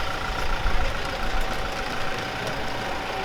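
Sand shuttle vehicle engine idling near the Sossusvlei dunes in Namibia, a steady low rumble with a faint knocking texture, constant and moderately close, no voices.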